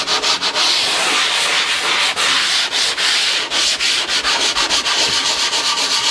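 Steady scratchy rubbing of a sanding block smoothing the edges of a patched hole in a wall, repeated back-and-forth strokes, close and fairly loud, with no talking.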